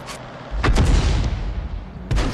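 Artillery in the World of Tanks video game, a 105 leFH18B2 self-propelled gun, firing with a heavy booming report and rumbling echo, followed by another muffled blast near the end.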